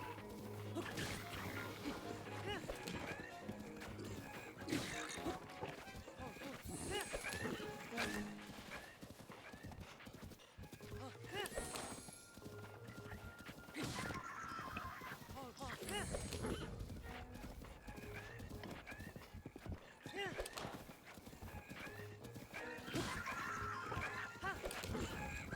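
A horse in the video game The Legend of Zelda: Breath of the Wild gives steady clip-clopping hooves with occasional whinnies, set among busy background noise and a voice talking over it throughout.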